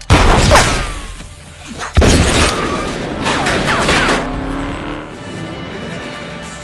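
A few sharp, loud gunshots in a hitman film scene, with heavy blasts near the start and another around two seconds, over a rumbling, busy action soundtrack.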